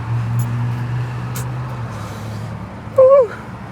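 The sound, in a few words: 2024 VW MK8 GTI engine and exhaust with muffler delete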